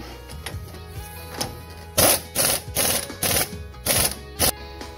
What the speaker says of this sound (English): Now tighten up the lower arm bolt.